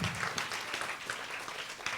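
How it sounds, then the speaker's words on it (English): A conference audience claps for a keynote speaker, a short, faint burst of applause. "Please give a big round of applause."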